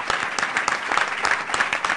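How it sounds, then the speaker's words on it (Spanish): A small group claps in brisk, steady applause at a live radio broadcast, moderately loud and close, lasting a couple of seconds. "Nos despedimos con un aplauso, Antonio"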